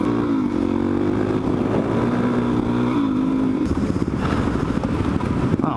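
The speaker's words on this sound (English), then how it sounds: "Riding the Supermoto today, so you know I'm not going to be staying on pavement." A supermoto motorcycle ridden on pavement and off it, its engine droning close and loud with shifting revs and a run of rough, clattering throttle bursts toward the end.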